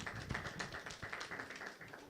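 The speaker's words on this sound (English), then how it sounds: "A better round of applause for Honorable Fatuma." A room of attendees gives a round of applause at a regional dialogue meeting, with soft, steady clapping that stays fairly faint across the whole moment and no talking over it.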